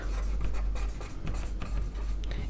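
Pen writing entries in an accounting ledger, a continuous close scratching and rubbing over a steady low background hum, with no talk.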